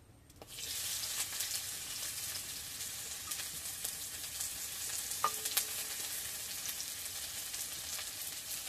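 Onions sizzle in hot mustard oil, a steady broadband frying hiss that starts abruptly as they hit the pan and continues close and loud, with occasional crackles and pops.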